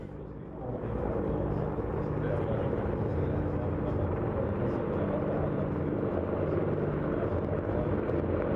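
A military National Guard helicopter at the Sand & Fun air show gives off a steady, loud rotor and engine drone that holds throughout without pause, with a commentator's voice running over it.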